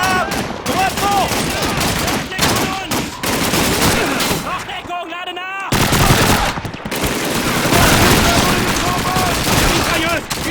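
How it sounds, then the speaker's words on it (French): German MG42 machine gun fire in Call of Duty 2's Russian campaign: rapid, loud sustained bursts with a short pause midway, mixed with other gunfire while soldiers shout over the din. "Mitrailleuse! Une MG! Une MG42!"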